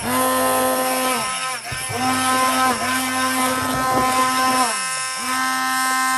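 A loud, high-pitched blender whir runs steadily, dipping and surging in short bursts as the blades chop autumn olive fruit for jam and spin up again.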